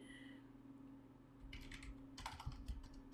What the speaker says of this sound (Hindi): एंटर प्रेस करते हैं